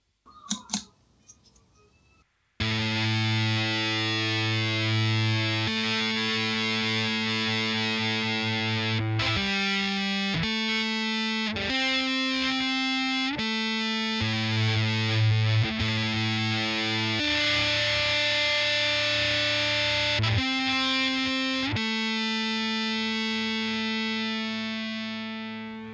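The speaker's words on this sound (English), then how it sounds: "preset number 9, and this is a big distortion. So this is our guitar sound." A ZOIA modular effects pedal running preset 9, a big distortion guitar patch with resonant delay, flanger and a touch of reverb, plays loud, sustained fuzzy tones that shift pitch in steps over about 23 seconds, with no talking.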